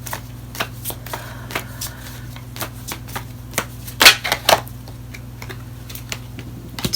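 Tarot cards are shuffled by hand in short crisp bursts of riffling and tapping, with a few louder slaps near the middle, over a low steady background hum.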